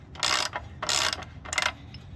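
Three ratcheting bursts from a wrench loosening the axle nut on a Triumph Daytona 675R motorcycle, each roughly half a second long, close and fairly loud, with short pauses between them.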